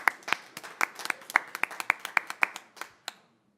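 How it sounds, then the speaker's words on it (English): Sparse applause from a small council meeting audience: a loose run of distinct, close hand claps that thins out and stops near the end. "So once again, a round of applause."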